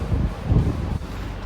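Gusty wind buffets the microphone outdoors on a windy, rainy day beside a truck being worked on, a low rumbling roar that swells and eases with no talking.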